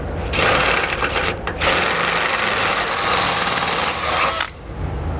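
A power drill with a 17/32 bit enlarges a pilot hole under a 2012 Mercedes-Benz while a rear anti-sway bar is fitted. The drill gives a loud, steady grinding whir that runs for about four seconds, dips briefly, then stops.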